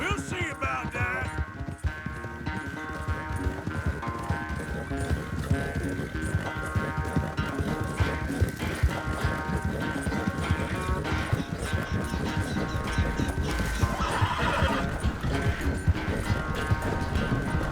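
Hooves clip-clop rapidly in a galloping rhythm amid dense Red Dead Redemption 2 sound effects and music, with a brief whinny-like cry mixed in.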